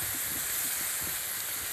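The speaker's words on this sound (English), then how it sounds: "Sizzling away." Steady, bright hiss of food sizzling in a hot pan, continuous and fairly close, with no voices.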